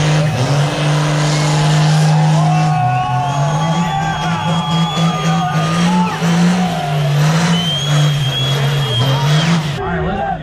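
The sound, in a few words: cars doing burnouts at a wet event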